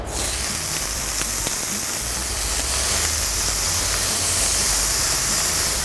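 Thin slices of beef steak sizzling hard in a hot pan on the stove for a Thai beef salad, a loud, continuous hiss that holds steady throughout.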